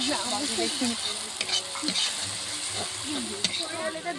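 Onions and green chilies sizzle and crackle in a hot wok while being stirred, a steady close frying hiss with scraping strokes, at an outdoor winter night picnic; faint voices in the background.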